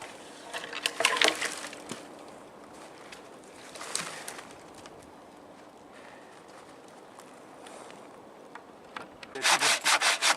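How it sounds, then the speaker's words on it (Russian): A hand saw cuts through a wood log outdoors for a Finnish candle log fire, with scattered rasping strokes in short bursts and a faster run of strokes at the end over quiet background. "прямо здесь ее пильну."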